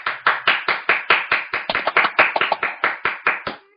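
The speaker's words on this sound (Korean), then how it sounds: "크게 박수 한 번만 이렇게 주시고 시작해 보겠습니다" Clapping rings out in a lecture hall before a Korean economics talk, about twenty sharp, evenly spaced claps in a fast rhythm, close and loud, stopping abruptly.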